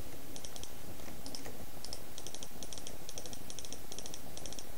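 Clicking while playing Minecraft, small sharp clicks in quick clusters of two to four, repeating at a fairly steady rhythm over a constant low background hiss.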